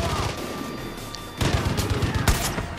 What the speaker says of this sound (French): Alors, on va changer un peu d'arme, mettre le sniper.